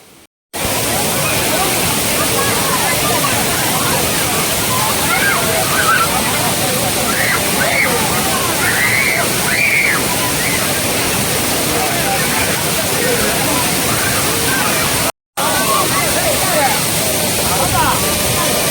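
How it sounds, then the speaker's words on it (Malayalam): Suruli Falls, a twin waterfall cascading into a bathing spot and on down over large rocks, roars as a loud, constant wash of falling water that fills the whole clip, with only brief cuts. "രണ്ട് വെള്ളച്ചാട്ടങ്ങളാണ് കുളിക്കുന്ന സ്ഥലത്തേക്ക് ഒന്നും അവിടെ നിന്ന് താഴേക്ക് മറ്റൊന്നും"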